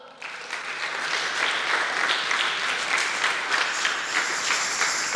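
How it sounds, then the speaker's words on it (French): A congregation claps together at a Sunday church service, a dense, sustained round of applause that starts abruptly and holds at full strength throughout. "On acclame."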